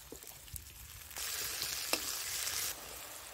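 Chopped onions hit a hot pan of oil with garlic paste and bay leaf, bursting into a loud, steady sizzle that swells midway and settles back, with a few stirring clicks and no voices.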